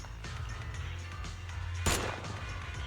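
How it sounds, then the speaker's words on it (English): A gunfire barrage in the video game Zenless Zone Zero: a steady background of muffled shots and rumble, broken near the end by one louder, sharp burst. "The sound of gunfire rings out, and a barrage of bullets fly toward the two of them."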